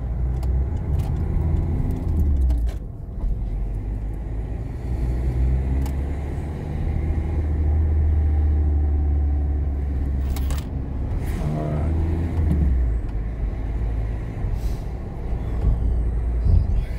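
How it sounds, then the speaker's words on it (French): Cars passing on a road, a steady low engine and tyre rumble that swells and fades as vehicles go by over seventeen seconds, with a brief brake hiss near the middle. "Laisse les voitures passer."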